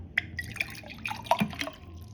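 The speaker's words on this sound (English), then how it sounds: "I'll pour you one as well" Water poured into a drinking glass at a table, heard as a short run of close, light splashes and drips lasting about two seconds with no voices.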